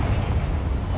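Confringo fire spell blast in Hogwarts Legacy, a dense low roaring rumble lasting about a second, loud and close with no talk.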